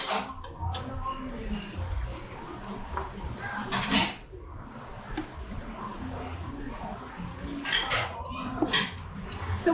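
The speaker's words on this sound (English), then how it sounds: "So now we're going to hop over to the stove and dump them in." Vegetables tipped from a bowl into a pot on a stove while cooking chili, with clattering cookware, scraping and clinking of utensils, close and busy throughout.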